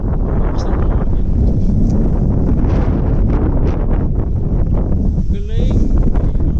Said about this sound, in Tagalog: Basta hangin.